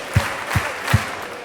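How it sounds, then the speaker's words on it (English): A convention audience claps in unison on cue, three loud, evenly spaced collective claps from a large crowd in a hall, followed by quiet room noise. "If you can hear my voice, clap 4 times"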